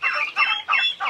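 Chickens with a rooster give a short burst of nasal, honking clucks, three or four quick loud calls close by, with no talking.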